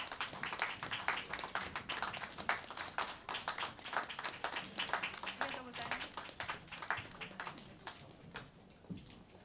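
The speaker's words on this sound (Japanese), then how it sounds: "もう一度大きな拍手をお願いいたします" An audience claps after a viola performance at a Tokyo Tower cultural festival. The rapid, dense hand claps are moderately distant and continue steadily while a voice speaks over them.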